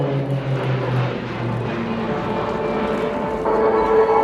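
Propeller aircraft fly a mirror formation at the Yeovilton International Air Day air show, their engines droning steadily and evenly at a moderate distance, with a slight swell in loudness near the end.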